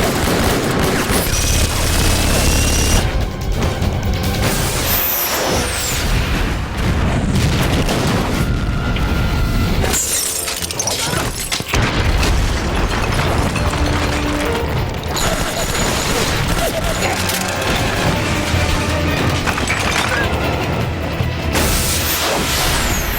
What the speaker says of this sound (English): That police car explosion was cool